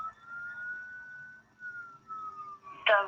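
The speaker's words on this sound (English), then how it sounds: "could hear the sirens finally show up out front" Emergency vehicle siren wailing in a steady, slowly falling tone as responders pull up out front, fairly clear and moderately near, ending with a brief burst of sharper noise.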